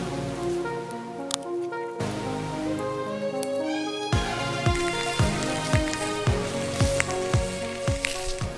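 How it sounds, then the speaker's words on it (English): Rain begins pattering at an outdoor campsite during a storm, scattered drops tapping and sizzling on surfaces nearby, building into a steadier patter with sharp individual hits. "Dude, it's literally starting to downpour right now"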